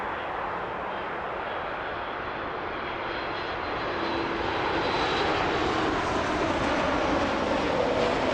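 A Boeing 737 MAX 8 airliner arrives at Toronto Pearson airport with a steady, broad roar that swells slightly over several seconds, fairly loud, with no voices.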